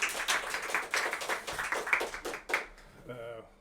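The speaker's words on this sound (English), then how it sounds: "A round of applause." A short burst of audience applause at a talk on current art in Mexico, a crowd clapping for a few seconds before it fades, with a voice speaking briefly as it ends.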